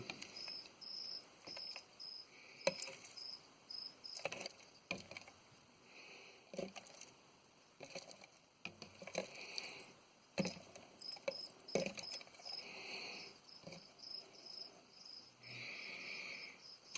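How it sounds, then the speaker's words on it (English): Crickets chirp in high, repeated trills inside a feeder enclosure, heard faintly alongside scattered scrapes, taps and rustles as someone tries to catch one. "Let's catch the cricket."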